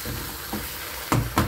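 Crepioca sizzling in a hot frying pan right after being flipped, a soft steady fry with two brief louder bursts of sizzle near the end, close by and quiet.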